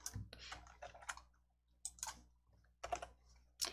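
Alt and S keys pressed on a computer keyboard produce faint, sparse clicks in small clusters, close and quiet with no talking.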